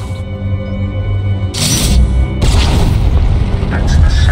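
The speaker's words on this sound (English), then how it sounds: "That's the sound of my flux cannons incinerating one of your capital ships." Flux cannons blasting a capital ship in Star Wars: The Old Republic: a heavy booming blast erupts, followed by a second rumbling explosion and a sustained roaring, crackling tail.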